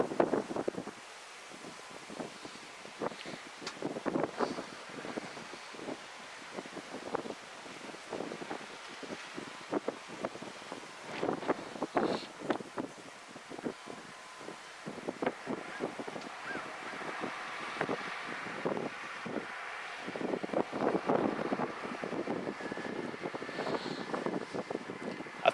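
Wind blowing at about 20 miles an hour across a farm field in southwest Georgia during lime spreading, a steady rushing buffet against the microphone with gusty rustling throughout, no voices.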